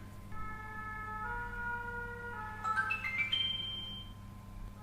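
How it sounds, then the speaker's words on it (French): Phone notification chime for an incoming SMS, a short rising series of bright electronic tones over steady low background hum, moderately loud and alone. "je viens de recevoir un petit SMS de Léo"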